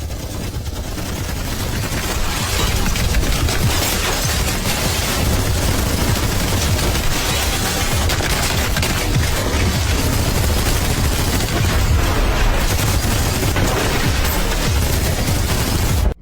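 Sustained gunfire from a film battle sequence in Counter Strike (2025), with gang members shooting from behind overturned sofas and tables at soldiers; dense, continuous volleys of loud automatic fire and booming shots, with no talk, for the whole stretch.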